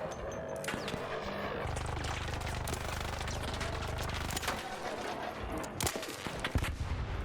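Gunfire fills a fight against an ARC boss in the shooter game ARC Raiders, with dense bursts and cracks running throughout, a steady low rumble underneath and a few sharper loud shots near the end.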